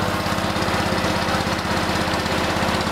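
A rebuilt Kohler small engine runs after starting: a steady, close, even chugging putter with a fast regular beat and no pauses.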